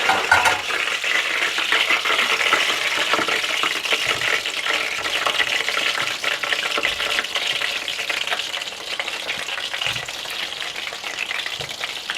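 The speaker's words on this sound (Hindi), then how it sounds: "बाकी कबाब भी इसी तरह से फ्राई कर लीजिएगा" Gola dum kababs frying in hot oil, a dense continuous sizzle and bubbling with occasional faint clinks of utensils, steady and close with no voices.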